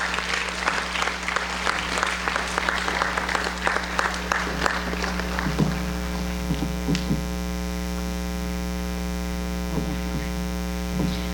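An audience claps for students at a senior awards ceremony; a burst of applause fades out after about five seconds, leaving a steady electrical hum with a few faint knocks.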